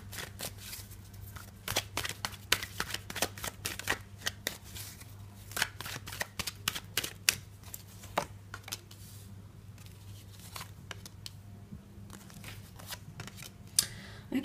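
Tarot cards being shuffled and drawn by hand: rapid, crisp flicks and riffles in irregular bursts, fairly quiet and close, with no talking over them.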